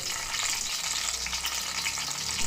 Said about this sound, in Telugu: ఆయిల్ బాగా మరిగిన తర్వాత కొన్ని పచ్చిమిరపకాయలని ఈ ఆయిల్ వేసి కొంచెం సేపు ఫ్రై చేద్దాం